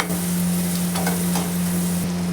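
Onions and green chillies fry lightly in a pan for pasta, producing a continuous close sizzle with faint stirring scrapes and a steady background hum.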